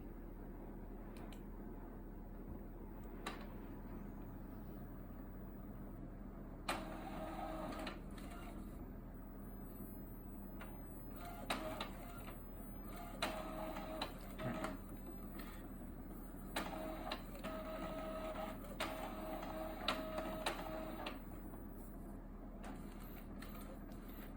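An Epson L805 inkjet printer feeding and printing a PVC card from its CD tray runs with a low steady hum, intermittent mechanical whirs and clicks as the print head shuttles back and forth, moderately faint over a quiet room.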